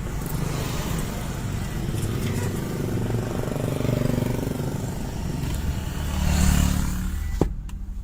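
Motorcycles, three-wheelers and cars idling and creeping in a long queue at a fuel station in Aceh Tenggara, a steady engine rumble with one engine revving louder near the end.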